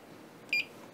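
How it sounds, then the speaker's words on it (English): A single short electronic beep from a button press on a Flying Bear Ghost6 core XY 3D printer, brief and clear over a quiet background hum. "you can turn on off a button sound so that every time you press a button it beeps"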